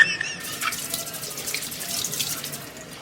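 Dishes are washed under a running kitchen tap, with a steady close hiss of flowing water and light clinks and splashes throughout and no talking.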